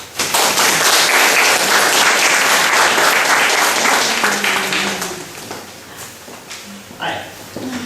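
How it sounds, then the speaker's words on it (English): An audience at a talk on the history of English breaks into loud, sustained applause that fades after several seconds, with scattered claps and footsteps as the speaker comes up. "let's welcome our speaker with a big round"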